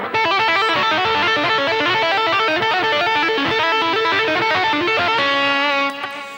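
A fast, distorted electric guitar tapping run, rapid tapped notes in a continuous, cascading pattern, loud and bright, ending on a sustained note.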